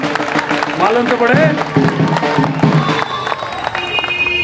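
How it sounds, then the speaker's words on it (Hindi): A crowd claps at an outdoor Aam Aadmi Party political rally in Khirki village, with dense, steady applause running beneath a man's loud speech. "जोर से बजाओ, ताली बजाने की जोर से बजाओ,"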